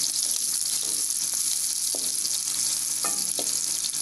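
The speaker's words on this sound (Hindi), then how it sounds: "प्याजों को हम 2 से 3 मिनट तक लाइट ब्राउन कर लेंगे।" Chopped onion sizzling and frying in hot desi ghee in a pan for sarson ka saag, a steady close hiss with occasional stirring clicks and scrapes, no talking.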